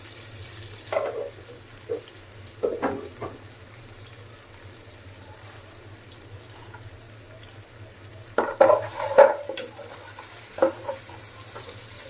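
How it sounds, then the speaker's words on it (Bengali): Chopped onions frying in a cup of hot oil for chicken fry biryani, a steady low sizzle with occasional louder bursts of stirring and clatter, heard close with no talking. "আমি ওই তেল গুলাই দিয়ে দিছি এখন পেঁয়াজ দিয়ে দিব পেঁয়াজ দিয়ে দিলাম এক কাপ"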